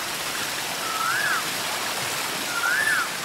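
A steady, broad rush of falling water from a waterfall fills the scene, with two faint bird chirps rising over the constant hiss.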